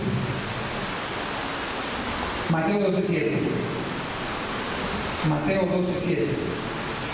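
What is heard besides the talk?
rain falling during an outdoor sermon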